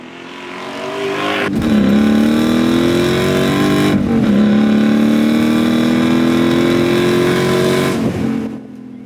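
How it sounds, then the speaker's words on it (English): A BMW M5 with an M60 V8 engine revs hard through several rising pulls, a loud, near, throaty roar that climbs in pitch and breaks off briefly between gears before building again. "Under the hood of this car is the same M60 V8 that was under the hood of his previous 7 Series"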